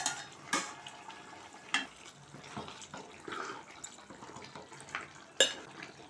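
Mutton curry with coconut paste stirred in a pan, with intermittent scraping clatters of the spoon against the pan over a soft, steady sizzle, close by and with no talking.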